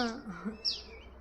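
Two small sparrows chirp in quick high tweets, a couple of short calls rising over a faint voice that trails off at the start, in a home garden.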